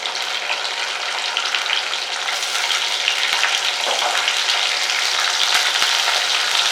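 Ginger, green chilli and garlic frying in hot oil in a pan for a simple South Indian avarebele saaru, a dense, steady sizzle that fills the whole stretch with faint stirring clicks and no voices.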